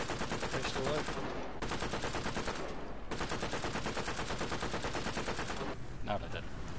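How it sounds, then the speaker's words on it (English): Machine guns rattle in a War Thunder realistic tank battle, long rapid bursts of dense, steady gunfire broken by two brief pauses, loud and close throughout. "Just hit him with your machine guns, it'll blow up."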